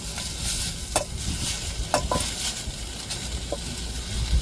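Dried red chillies fry in a little oil with a loud, dense sizzle, broken by a few sharp clicks and scrapes of a stirring spoon against the pan.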